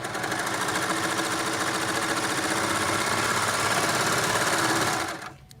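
A Baby Lock Imagine serger stitching along fabric at full speed, a loud, steady mechanical whir with rapid rhythmic chatter close by, running unbroken until it winds down at the end with no talk.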